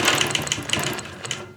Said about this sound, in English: So now I can quilt all the way up to that corner over there.